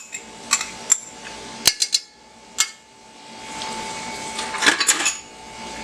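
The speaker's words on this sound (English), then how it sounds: "Like I said, this was one 15-ounce can of pumpkin, and it's all going right in the bowl." Canned pumpkin, one 15-ounce can, is scraped and knocked into a bowl, with scattered metallic clinks and taps of a can and utensil against the bowl and a few soft thuds, fairly close and without talk.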